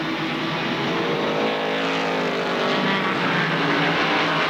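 ARCA SuperCars race at Kil Kare Speedway, with loud, sustained engine roar from several cars sweeping past together and pitch shifting as they pass, continuous across the whole stretch.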